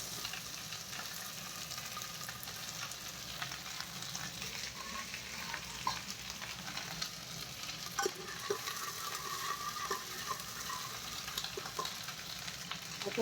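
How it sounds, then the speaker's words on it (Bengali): Onion and green chili frying in hot oil inside a pressure cooker, a steady soft sizzle with occasional crackles and stirring clinks, fairly quiet and continuous with no talk. "কুকারেও তেলটাতে গরম হয়ে গিয়েছে, এখন দিয়ে দেবো পেঁয়াজ, আর কাঁচা লঙ্কা দিয়ে দিলাম।"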